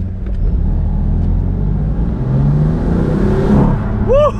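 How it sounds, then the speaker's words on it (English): A BMW M4's turbocharged engine revs hard and continuously at close range, with a whooshing, rising whir and a brief chirp near the end; no one speaks. "I do love the sound of those turbos, man. When those things kick in and that, oh man, that whoosh"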